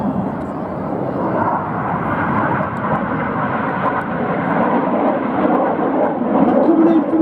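A Red Arrows display jet passes at an air show as a continuous broad rumbling roar that grows slightly toward the end, with faint crowd noise underneath.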